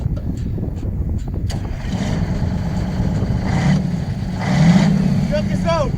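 A 4x4 truck engine runs at a steady fast idle after a cold start, a continuous low rumble close by, with people talking over it.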